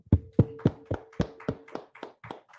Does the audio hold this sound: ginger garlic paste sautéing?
no